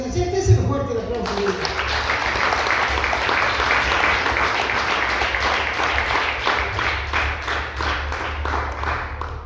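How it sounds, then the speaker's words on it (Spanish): Applause in a church service: a voice trails off at the start, then a crowd claps in a strong, rhythmic, unified beat that carries on steadily for several seconds. "Ese es el fuerte el aplauso."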